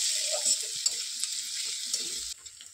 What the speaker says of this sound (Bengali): এর উপরে দিয়ে দেবো পেঁয়াজ কুচিয়ে রাখা, দিয়ে হালকাভাবে নেড়ে নেব যতক্ষণ কালার না আসছে